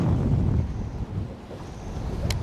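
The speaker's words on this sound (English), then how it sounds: "Even in the wind like that. Man, look at this wind." Gusty wind at a lake during a fishing outing buffets the microphone with a steady low rumble and rushing, close and loud throughout, with no talking.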